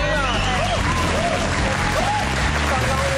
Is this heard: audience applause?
yes